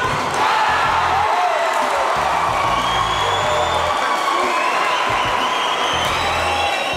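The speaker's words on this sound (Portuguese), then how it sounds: "1-1 e explosão da torcida" A stadium football crowd erupts in sustained cheering and roaring after an equalizing goal, a dense, loud wall of voices with whoops and shouts that stays steady throughout, with no clear talk above it.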